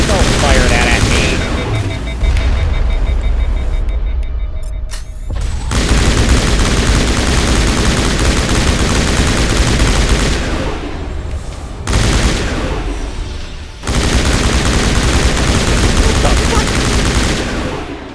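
Heavy gunfire fills a space adventure video game firefight, sustained volleys of rapid shots over booming effects, broken by a few brief dips before resuming at full intensity.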